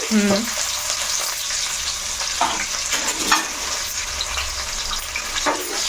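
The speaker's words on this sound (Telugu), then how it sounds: "ఇప్పుడు ఇవి బాగా చక్కగా కొంచెం బ్రౌన్ కలర్ వచ్చేదాకా వేయించుకుంటే" Onion fries in a pan for gongura chutney, a bright continuous sizzle with scraping stirs and a brief watery splash near the start, no talk.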